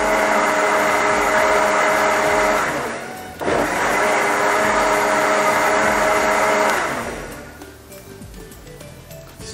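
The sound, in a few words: blender blending a smoothie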